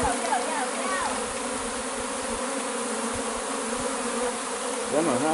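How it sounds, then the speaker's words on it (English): Bees fly around in Jamaica with a steady, close buzzing drone, and a few swooping tones suggest individual bees passing near, especially at the start and end. "I got bees flying all over me,"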